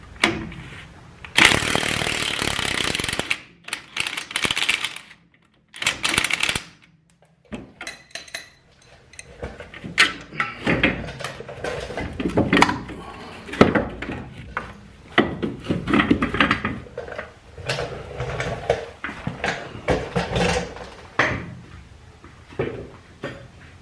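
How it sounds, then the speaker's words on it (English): Metal-on-metal clanks, scrapes and ratcheting as the lower strut bolts come off a VW Caddy during a coilover swap, close and irregular, with short bursts and pauses and no talk. "now we're just going to take these bottom bolts off of the strut"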